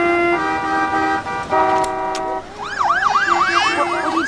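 Near and loud, an emergency siren cuts through a traffic jam in a 1993 TV drama, with sustained horn-like tones at first, then a fast rising-and-falling wail.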